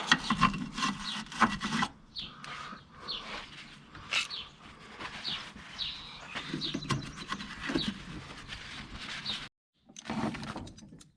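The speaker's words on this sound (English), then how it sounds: "I'll just run a little wire brush around in there, clean off the loose stuff." A wire brush scrubs around the brake master cylinder area of a 1986 Ford Ranger diesel, giving irregular close rubbing and rasping strokes with short pauses and a brief silence near the end.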